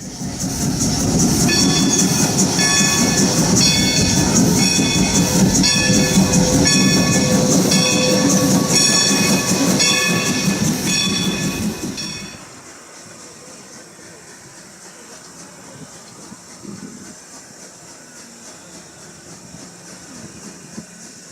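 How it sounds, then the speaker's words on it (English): A steam passenger train on the Strasburg Rail Road rumbles loudly past with rhythmic clacking and a high whine, then fades away abruptly, leaving quiet background noise. "regularly scheduled steam passenger trains still pass each other"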